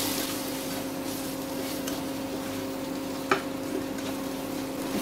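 Lightly toasted bread pieces for bread upma are stirred quickly in a pan, a continuous soft scraping and sizzling hiss with one brief clink partway through, close and steady.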